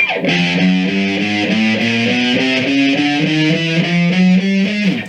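A distorted electric guitar plays a run of chugging notes, thick and buzzy, loud and up close with no voices.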